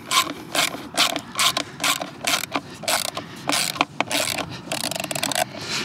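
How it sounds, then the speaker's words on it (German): A screw is backed out of a plastic cover on a Vespa GTS 300 scooter with a series of quick, rhythmic ratcheting clicks and rasps, close and fairly clear. "dann hier unten die Schraube raus"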